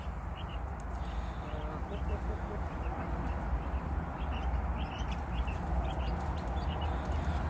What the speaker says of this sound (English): So yeah, these are our quail.